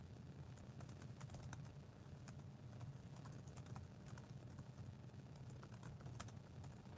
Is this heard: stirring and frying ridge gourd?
no